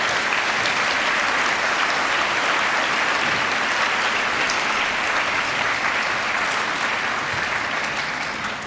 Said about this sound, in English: So let's clap for the parents because I missed that part.